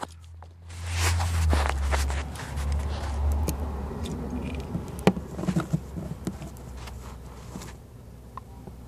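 A cluster of honeybees forming a linked outer shell of bodies hums and buzzes steadily at close range, with a low rumble at first, then scattered sharp ticks and taps over the drone.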